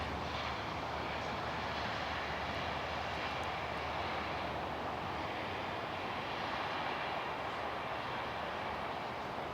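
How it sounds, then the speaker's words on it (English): Q400 turboprop airliner of National Jet Express arriving at Perth Airport in the early morning, a steady loud roar and whine of its engines held evenly for about ten seconds with no talking. "National Jet Express Q400 arriving."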